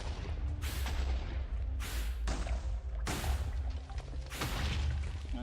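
Four heavy explosions boom in the Minecraft video game, evenly spaced about a second apart, each a loud close burst with a short decaying tail over a low, constant rumble.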